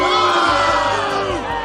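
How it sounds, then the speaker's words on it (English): A large cartoon crowd boos in a sustained, loud, unified drone, heard alone without any talk over it. "are they booing me?"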